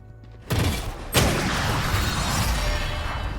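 Valorant gunfire bursts out suddenly, a rapid fusillade of shots followed by a second sharp crack, then sustained loud, dense firing and crackle that carries on to the end.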